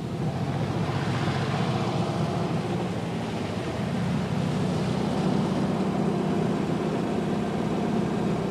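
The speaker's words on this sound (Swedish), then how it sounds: "Vi startar då med den där vanliga postbåten" A mail boat engine drones steadily and low for the whole stretch, a continuous rumble with a faint wash of water and no voices, in the Åboland archipelago.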